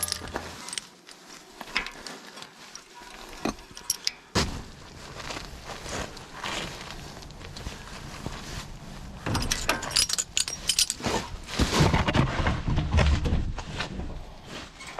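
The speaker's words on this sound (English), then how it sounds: "we'll grab our ball joint puller and pull this off of here." Metal clanks and sharp bangs as a ball joint puller works the lower ball joint of a first-generation Toyota Tundra, with a sudden loud crack near the start and repeated knocks and scraping later on.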